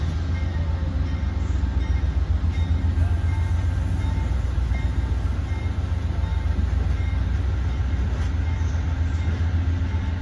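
Amtrak Downeaster passenger train pulling out of Exeter Station, New Hampshire, a steady loud low rumble and rolling roar that holds throughout, with no talking.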